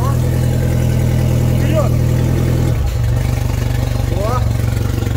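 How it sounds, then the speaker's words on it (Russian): A Solar 555 Super Jet jet boat engine runs loud and steady, rising in revs before dropping back to a rumbling idle near the end, with cooling water splashing from the exhaust and people talking over it. "Это все через выхлоп вылетает вода для охлаждения."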